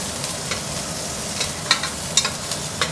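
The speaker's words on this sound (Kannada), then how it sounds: "ಇದು ಈರುಳ್ಳಿ ಸಾಂಬಾರು ಮಾಡ್ತೀವಲ್ಲ, ಸ್ವಲ್ಪ ಚೆನ್ನಾಗಿ ಫ್ರೈ ಆದರೆ ಸಾಂಬಾರು ಅವಾಗ ಘಮ ಘಮ ಅಂತೈತಿ." Onions fry in hot oil with mustard seeds and curry leaves for a sambar, a constant close sizzle broken by several sharp scraping stirs and small pops, with no talking.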